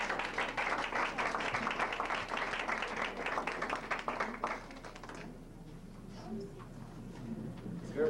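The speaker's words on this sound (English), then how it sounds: "Let's give her a rounded applause as she can." Guests at a PhD reception clap warmly in a steady patter for about five seconds before the applause thins out and fades, leaving light room noise.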